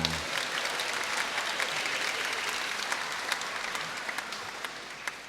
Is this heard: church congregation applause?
yes